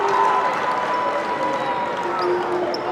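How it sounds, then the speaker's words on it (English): A gym crowd at a high school boys basketball game between Rice Lake and Eau Claire North roars and claps after a block and a drawn foul, a loud, sustained cheer filling the hall. "Crowd loves that, don't they?"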